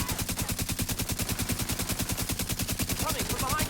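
Rapid, steady automatic fire from a light machine gun in the video game The Division 2, a continuous burst of evenly spaced shots running the whole time, close and loud, with faint game sounds near the end.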